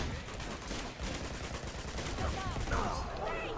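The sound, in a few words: machine gun fire in video game Uncharted 2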